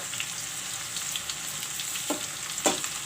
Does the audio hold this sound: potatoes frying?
yes